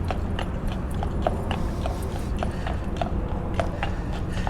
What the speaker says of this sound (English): Ain't that a beautiful horse?